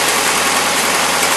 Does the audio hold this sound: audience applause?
no